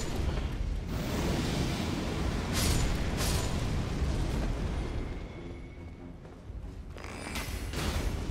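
Continuous loud rumbling booms and blasts in the video game Elden Ring: Shadow of the Erdtree, a dense roaring wash that swells and dips over several seconds.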